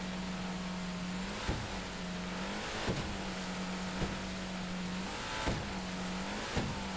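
A car driven fast in GTA V Online during a heist getaway, its engine holding a steady drone broken by repeated gear-shift dips and rises, with sharp thumps every second or so and no talk.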